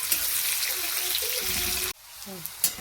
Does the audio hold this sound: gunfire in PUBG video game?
no